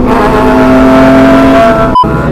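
A loud SC Project aftermarket motorcycle exhaust holds a high, steady rev close by, then drops off suddenly with a brief crackle.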